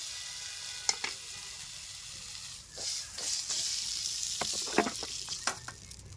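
Vegetables fry in hot oil while being stirred and lifted out of the pan, a soft sizzle swelling midway, with scattered scraping clicks of a spatula and no talking.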